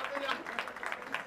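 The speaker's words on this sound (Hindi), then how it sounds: "अतिथियों के सम्मान में तालियां बजाएं।" An audience at a district installation ceremony claps for honored guests, a brief, fairly faint patter of applause with voices mixed in.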